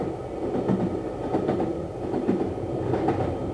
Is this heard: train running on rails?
yes